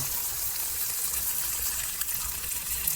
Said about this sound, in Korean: 여기에 이제 물을 때려 부어줍니다